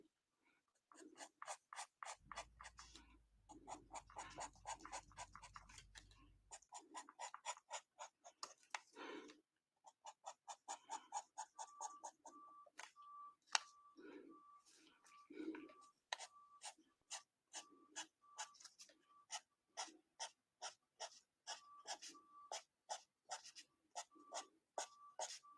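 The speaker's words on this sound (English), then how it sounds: "You hear that scratching?" Pen scratching across paper while darkening a solid black area of a drawing, a steady run of close, crisp strokes, with a brief low rumble partway and faint whispered speech at times.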